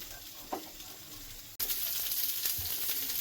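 Vegetables sizzling on a tawa alongside paneer tikka. A moderate, steady frying hiss with faint stirring touches turns noticeably brighter and louder after an abrupt cut midway, with no talking.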